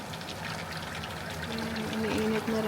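Water pours into a cooking pot for boiling spinach in a home kitchen, a steady close trickling stream that grows slightly louder toward the end.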